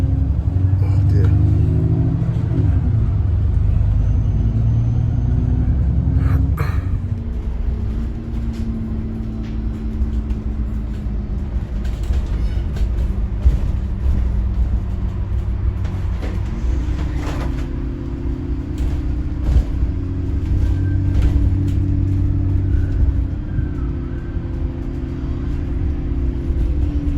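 Steady low engine rumble and road noise inside a moving bus travelling around New Addington, with a shift in engine tone partway through; the droning continues throughout with no clear speech.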